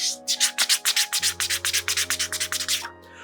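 Rapid papery flicks as manga pages of uncoated paper are fanned one after another, about twenty quick crisp riffles in a steady rhythm, close and fairly loud, with no talking.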